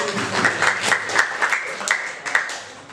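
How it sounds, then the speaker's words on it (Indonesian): Teachers gathered in a classroom for an Indonesian-language training session give a short round of scattered applause, the individual claps uneven and fairly close. "Nah, tepuk tangan."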